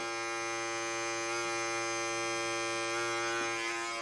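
A Philips 11-in-1 Series 5000 electric trimmer runs with a steady, close buzzing hum that stays constant throughout, with no talk over it.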